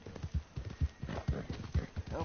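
Hooves pound out a steady galloping clip-clop from a horse in Red Dead Redemption II, with evenly spaced heavy strikes close by and a voice speaking over the rhythm.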